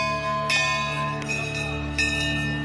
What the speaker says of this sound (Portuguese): Eles tocam o sino como quem avisa a chegada.